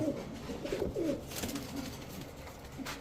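Indian Naptha pigeons, a male and female pair among a flock of highflyer and racer birds, coo in soft repeated throaty phrases over a constant background hum.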